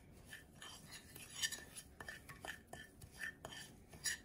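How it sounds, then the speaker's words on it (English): A spoon stirs a homemade chorizo spice mixture in a bowl, making soft, irregular clinks and scrapes that stay quiet and close, with no talking. "Okay, I'm gonna stir it up first."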